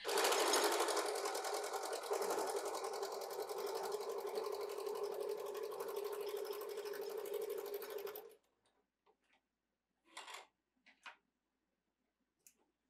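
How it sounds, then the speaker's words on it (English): Sewing machine quilting vertical wavy lines through fabric scraps for a clutch runs in one loud, steady rapid stitching whir for about eight seconds, then stops, leaving a few faint clicks and handling taps. "So I'm quilting these with vertical wavy lines"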